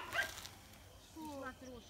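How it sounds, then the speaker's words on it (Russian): A dog gives a faint, brief whimpering yip, heard softly from a distance among low background noise. "О, собака."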